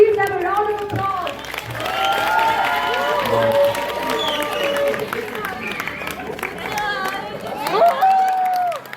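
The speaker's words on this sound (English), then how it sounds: "please give them a round of applause." An audience at a school Teacher's Day celebration claps and cheers for ramp walk participants, with scattered clapping under a loud announcer's voice, crowd chatter and music.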